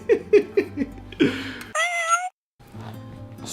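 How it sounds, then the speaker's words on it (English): Cat meowing in a quick series of short, close meows, followed by a longer, higher drawn-out cry and brief silence, then a quieter trailing sound. "Look at this cat."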